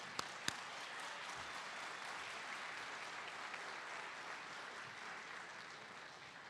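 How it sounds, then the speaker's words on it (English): A crowd at an adult education graduation ceremony gives a steady round of applause, a continuous, fairly distant wash of clapping with a couple of sharper claps at the start. "how about a round of applause first?"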